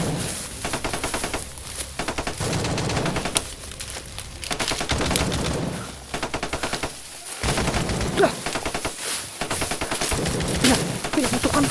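Rapid bursts of gunfire crack out again and again, repeated shots and volleys coming loud and close, overlapping one another with hardly a pause across the whole stretch.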